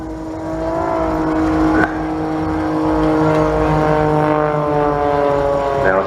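Jet-powered aerobatic aircraft performing rolls and vertical climbs at a seaside air show, a loud continuous engine drone with shifting harmonic tones that holds steady throughout, close and unbroken.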